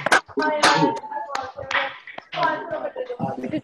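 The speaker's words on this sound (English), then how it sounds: "Just clap. 1," Webinar participants clap over an online call, a few uneven bursts of hand claps and taps, close and sharp, with a voice speaking between them.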